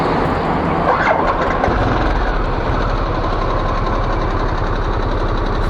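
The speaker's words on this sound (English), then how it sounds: "let's give this bike a start." A Harley-Davidson Sportster S motorcycle engine cranks and fires up, then settles into a loud, steady, throbbing idle with an uneven rhythmic pulse, close by and alone.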